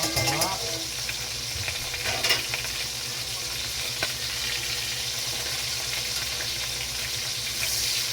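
Food frying in oil in a pan, a steady close sizzle and crackle with occasional stirring clatter, continuous and without talk.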